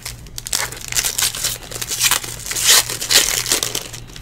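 Foil wrappers of 2019 Illusions football trading card packs crinkle and tear open, producing continuous close, loud crackling and rustling bursts.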